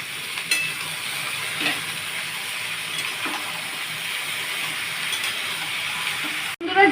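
Ridge gourd and potato pieces tipped into hot oil with green chillies, giving a steady close sizzle and frying hiss with a few light clinks and stirring scrapes, a sharp knock near the end.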